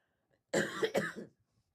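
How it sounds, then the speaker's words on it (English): Two quick, harsh coughs in close succession from one person nearby, then quiet. "Now I'm just coughing."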